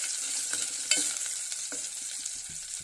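A spice tempering for bathua leaf dal fries and is stirred in a pan, giving a bright continuous sizzle with a few sharp scrapes and clinks from the spoon, close and without talk.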